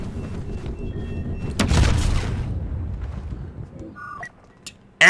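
A grenade blast in Star Wars Battlefront 2 lands as a single loud boom with a rumbling tail, set among sparse gunfire and battle noise, followed by a few sharp electronic blips and a sudden burst at the end.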